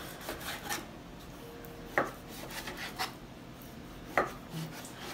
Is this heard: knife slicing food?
yes